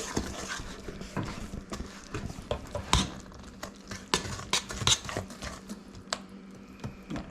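Eggs being whisked into brownie batter in a bowl for cherry brownies, a steady run of quick scraping clinks and taps of utensil against the bowl, close and moderately loud throughout, with no talking.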